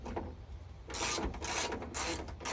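A ratchet loosening a hood bolt on a Ford Fusion, giving close, bright clicking bursts in two or three quick runs.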